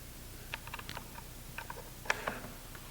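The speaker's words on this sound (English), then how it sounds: "put the barrel retaining cam back in its place" Barrel retaining cam being fitted back into an IWI Tavor rifle, a few light metallic clicks and small scrapes at irregular intervals, with a sharper click near the middle and no talking.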